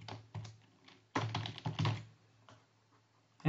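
Bursts of key tapping on a computer keyboard while entering a name and email into a form, with short clusters of clicks separated by pauses and a louder thump at the end, close and alone with no talking.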